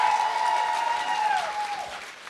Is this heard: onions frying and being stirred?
no